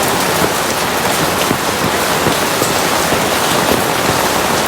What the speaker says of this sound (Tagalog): Ulan is fresh from the heaven.